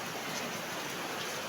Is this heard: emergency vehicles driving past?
no